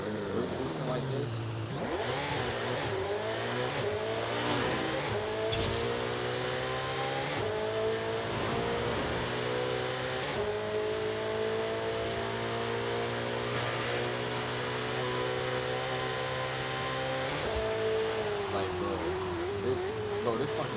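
A Ferrari SF90 Stradale accelerating hard, its engine note climbing through long rising sweeps with brief dips at gear changes, loud and close inside the car, with someone talking over it.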